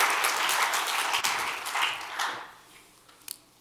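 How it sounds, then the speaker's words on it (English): Audience at a spoken word event applauding the school principal of Horizon Science Academy Toledo, a full burst of clapping that holds, then thins and fades out, leaving a few scattered claps at the end. "Let's give her a big round of applause."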